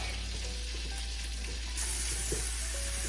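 Butter and garlic sizzle in a pan for grilling abalone, a steady close frying hiss that gets slightly louder partway through.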